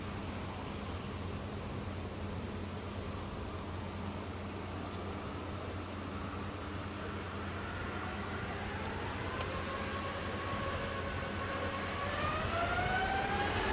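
Airbus A350-900 jet engines spool up at the Farnborough airshow in 2022: a loud, steady, broadband roar with a whine that climbs in pitch toward the end. No talking is heard.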